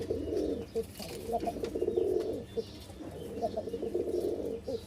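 Pigeons coo in repeated low, throaty bursts, close by, with brief pauses between phrases over a faint background.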